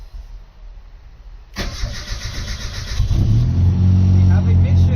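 A Mazda MX-5 starts by push-button ignition: a whirring crank bursts in, and a few seconds later the engine catches into a loud, steady idle, close to the microphone, with a voice speaking over it.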